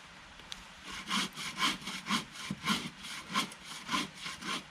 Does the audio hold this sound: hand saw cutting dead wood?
yes